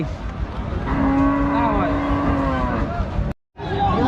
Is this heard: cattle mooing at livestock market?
yes